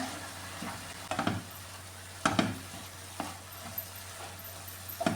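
Flattened rice, nendran banana and jaggery syrup being stirred together in a hot pan: a soft, steady sizzle broken by a few sharp scraping strokes of the spoon against the pan.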